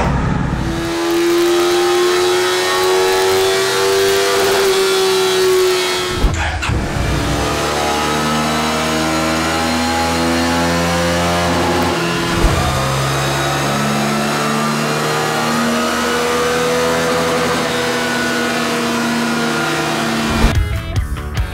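A Suzuki motorcycle engine, an inline twin, runs on a power dynamometer in a series of long full-throttle pulls, the pitch climbing steadily through each run before dropping off and starting again, loud and close with no talking.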